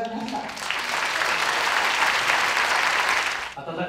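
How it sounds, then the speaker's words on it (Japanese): Loud, dense applause from a crowd at a Japanese ceremony presenting an honorary boxing championship belt, sustained for about three seconds before stopping abruptly. "温かい盛大な拍手改めて送りください。"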